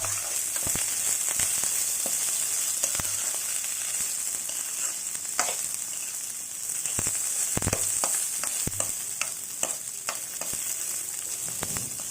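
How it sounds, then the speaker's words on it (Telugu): Cumin seeds and curry leaves fry in hot oil in a pan, giving a steady bright sizzle with scattered pops and crackles throughout, close and fairly loud, no voices. "జీలకర్ర ఫ్రై అవుతుంది కదా స్మెల్ చాలా బాగుంది కరివేపాకు"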